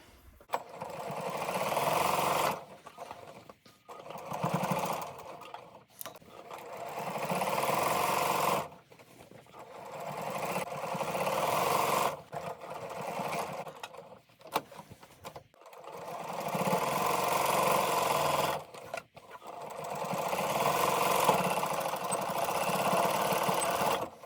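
A sewing machine stitches a pocket onto a fabric tote bag in several steady running bursts separated by short pauses, each burst a fairly loud, even whirr.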